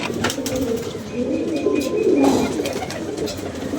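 Pigeons flapping their wings, a steady flock murmur with low cooing throughout, fairly close and continuous, no voices.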